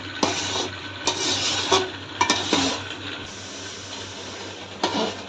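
Coconut burfi mixture being stirred in a pan, a close, repeated scraping of a spoon against the metal with sharp clinks and soft sizzling between strokes, in an uneven rhythm with no talk.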